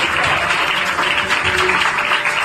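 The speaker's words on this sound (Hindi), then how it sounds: "हम जोरदार ताली मारकर" Church congregation at a Feast of Tabernacles service claps loudly and steadily, a dense wash of hand claps filling the room without talk over it.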